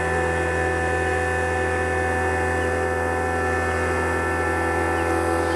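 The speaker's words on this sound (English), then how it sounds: "we'll go ahead and start the pump" An HVACR vacuum pump runs on a job site with a steady, loud drone and hum that holds constant throughout, with no talking.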